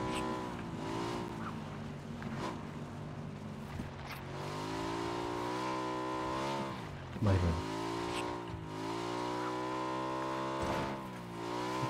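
A motorbike engine in PUBG drones steadily with shifting pitch as the bike speeds along, revving up and down with a brief rough scrape partway through and no voices over it.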